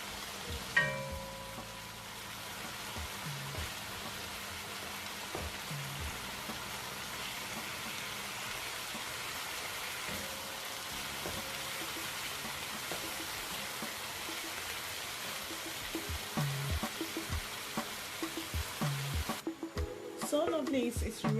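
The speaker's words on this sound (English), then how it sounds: "Leave it to fry and give it a nice turn." Chicken breast, beansprouts and bell pepper fry in a pot with a steady hiss and crackle that runs throughout, a few clinks of stirring near the end.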